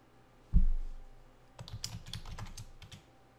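Quick keystrokes on a computer keyboard while entering slide text, a brief burst of close, crisp clicks after a single soft thump, with no talk.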